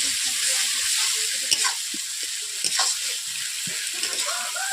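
Black cumin seeds sizzle in hot oil at the start of a katla fish kalia, a close, steady frying hiss with a few soft stirring clinks and scrapes throughout.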